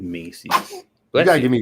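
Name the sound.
sneeze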